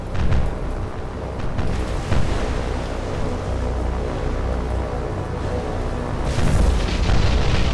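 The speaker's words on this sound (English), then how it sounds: "That was a magazine explosion, very likely." A warship's magazine detonates during a naval battle in War on the Sea, a Dutch force against the Japanese battleship Kongo, giving a loud sustained rumbling boom with deep roar throughout and a renewed burst near the end, no talking.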